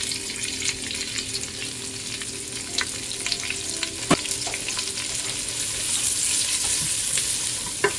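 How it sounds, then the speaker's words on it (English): Onions and garlic fry in hot lard in a pan, a soft continuous sizzle with occasional crackles and a stir or two, close and quiet, no voices. "So let's put the onions and the garlic in here."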